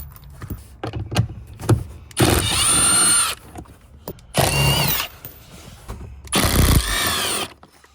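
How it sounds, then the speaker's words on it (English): Three loud bursts of a power tool with a 10mm socket spin bolts out on a Jeep Wrangler JL, each whine rising in pitch, separated by ratcheting clicks and small metallic handling sounds. "you're going to use a 10mm socket to remove the bolts securing it in place"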